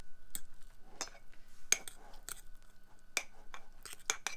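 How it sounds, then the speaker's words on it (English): A spoon clinks and scrapes against a mug while stirring a mug cake mix, giving quiet, irregular taps and clinks at close range. "Give it a stir."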